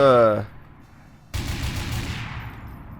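Turrets in the video game Garry's Mod open fire in a sudden burst of rapid gunfire lasting over a second, following a brief voice and a moment of near silence.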